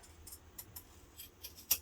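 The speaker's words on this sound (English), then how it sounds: "let's get your scissors. I'm just going to cut round" Scissors cutting around fabric for a handmade bag, a series of soft, irregular snips close by, with a sharper final cut near the end; no one speaks.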